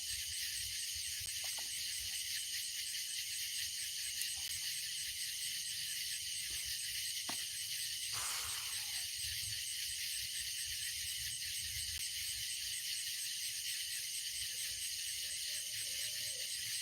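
A constant high-pitched drone of cicadas fills the night by a fireside, steady and unbroken, with faint low rustles beneath.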